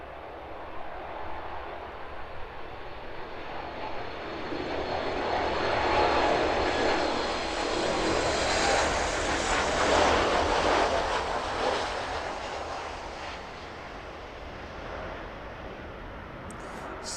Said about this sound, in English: safely landing into East Midlands then. Ryanair in from Girona